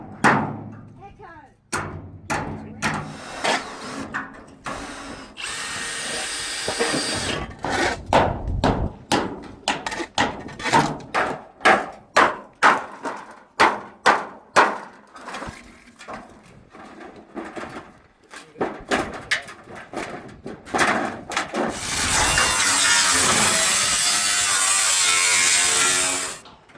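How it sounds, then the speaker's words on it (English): A power driver runs screws into a shed wall with repeated short whirring bursts and thuds in an uneven rhythm, close and loud, ending in a longer sustained whir. "Dad's chucking the last few screws in this other part of the wall here"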